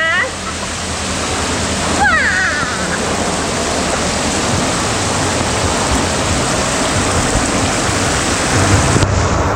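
Heavy, steady rain roars over a boat ride at a water park, loud and close throughout, with a short squeaky sound near the start.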